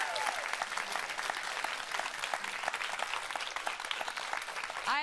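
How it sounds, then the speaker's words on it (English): Sustained applause from a large audience at a Taylor Swift livestream event, dense, even clapping and cheering filling the room for the whole stretch. "Can I get a round of applause?"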